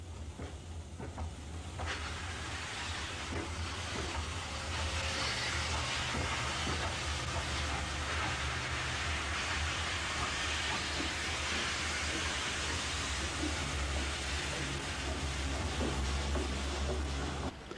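A Docklands Light Railway train runs on the little-used North Quay Junction track connection, giving a steady, loud rumble and hiss that swells after a quieter opening and holds to the end, with no voices.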